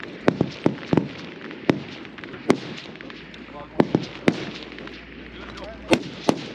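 Rifle shots at a 1000-yard F-Class long range match, with several sharp cracks spaced irregularly over distant outdoor range noise, some loud and near, others fainter from neighboring firing points.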